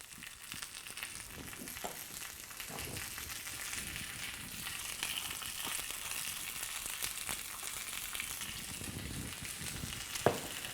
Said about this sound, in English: So you hear a nice little sizzle as our steak is starting to sear